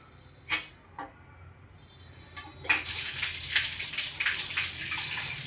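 Bore water running from a household tap: a few faint clicks, then a steady, close gushing stream that continues to the end.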